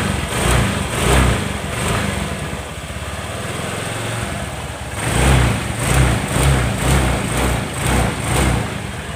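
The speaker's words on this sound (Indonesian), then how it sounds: "sekarang kita tes gas-gas dulu." A Honda motorcycle engine is blipped through a throttle test after repair, rising in two bursts of repeated revs over a steady idle, loud and close with no talk.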